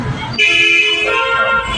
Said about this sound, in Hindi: हॉर्न बजा कर चलाओ, हॉर्न बजाओ और बजाओ